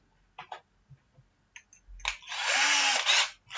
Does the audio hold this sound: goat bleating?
no